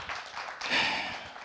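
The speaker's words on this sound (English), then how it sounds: "Applause to her, please" Audience applause for a guest on a food tech congress panel, a short burst of clapping that swells at mid-point and carries on steadily at moderate distance, with no talk over it.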